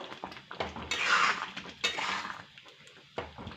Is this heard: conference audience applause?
no